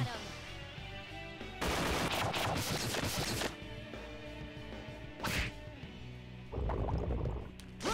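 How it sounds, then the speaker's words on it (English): All-out attack in Persona 3 Portable, bursts of rapid hits, whacks and crashes in loud flurries separated by quieter music-backed gaps, with a final flurry at the end. "Here's our going. chance for an all-out attack. Hit them."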